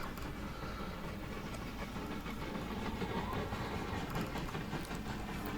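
Trains running in the railway video game Mashinky, a continuous rumbling roll with rail clatter and engine noise, steady and moderately loud, without voices.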